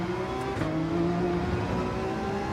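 Porsche engine in the Gran Turismo 7 racing game bouncing off the rev limiter, a loud sustained high-pitched drone with steady harmonics and a brief stutter near the start, no talk over it.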